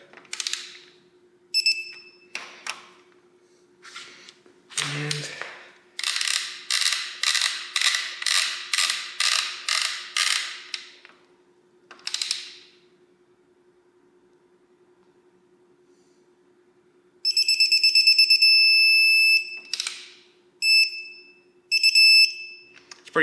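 A digital torque wrench tightening bolts during a Toyota 2JZ engine build: a rapid run of ratchet clicks, then a pause before several sharp electronic beeps near the end.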